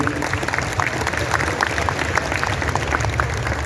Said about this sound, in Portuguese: Uma salva de palmas para o Tsutsui.